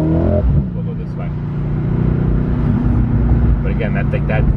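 Deep, low rumble of a Mercedes-Benz AMG engine heard from inside the car, steady and loud, with people talking over it.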